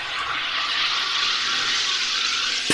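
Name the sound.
sparkling water maker carbonating reverse osmosis water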